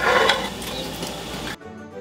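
Swedish meatballs are dropped with tongs into a very hot frying pan, giving a short burst of close, loud sizzling and clatter that cuts off abruptly after about a second and a half.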